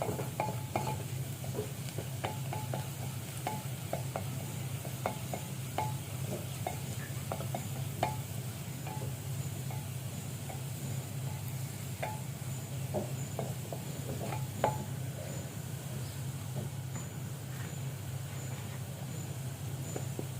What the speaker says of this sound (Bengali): পেঁয়াজ রসুন কুচি ভাজা হয়ে আসছে প্রায় আর একটু করব